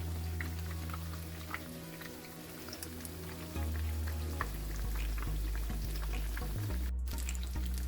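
Eggplant and potato patties fry in hot oil, a soft continuous sizzle and crackle close by, with some clinking of utensils and a low hum that grows louder partway through.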